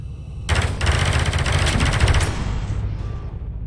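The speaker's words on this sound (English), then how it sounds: "Some regular shooting gameplay." Rapid, continuous gunfire erupts in the VR wave shooter Space Pirate Trainer. Loud, dense bursts of blaster shots run steadily for about three seconds before trailing off.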